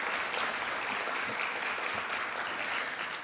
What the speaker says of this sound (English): you may applaud.